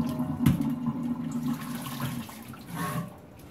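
Wash water drains from freshly washed mohair wool, a continuous gurgling, splashing rush like a sink or flush emptying, fairly close and steady, with a brief louder splash early on and no talking.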